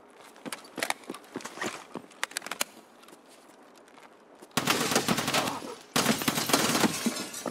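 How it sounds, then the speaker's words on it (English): Gunfire in Escape From Tarkov on the Shoreline map: scattered single shots and short bursts ring out at first, then two long, loud, dense stretches of automatic fire take over. "A lot of recoil in this gun."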